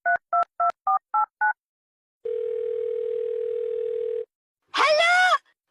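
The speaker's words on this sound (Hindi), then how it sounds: "चलो कमिश्नर को फोन लगाओ" A cartoon telephone sounds six quick, evenly spaced dialing tones, then a steady dial tone held for about two seconds, and finally a short, bright, warbling electronic burst, all crisp and close.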